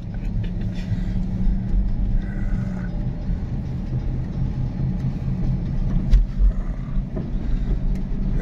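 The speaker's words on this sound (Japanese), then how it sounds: "車も静かなんだな" A quiet car drives along a road in Japan, with a steady low engine and road rumble inside the cabin and a few faint knocks, with no one speaking.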